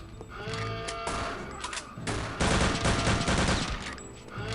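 Rapid bursts of MP40 submachine gun fire in the shooter game Return to Castle Wolfenstein, loud and repeated in several sustained volleys mixed with game effects.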